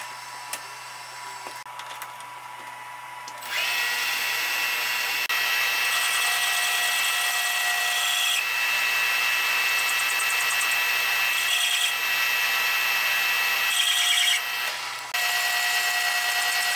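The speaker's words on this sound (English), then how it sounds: "And now back to the little lathe to touch up the edge." A small metal lathe cuts and chamfers a Mustang engine pulley, giving a steady high-pitched whine with a sustained tonal ring that grows louder after a few seconds and holds almost unbroken, with no talk.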